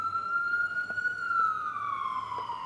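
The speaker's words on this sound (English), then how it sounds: "I'm gonna let this ambulance go by." Ambulance siren passing on the street, one long tone sliding slowly downward as it goes by, clear and fairly loud over low traffic noise, no talking.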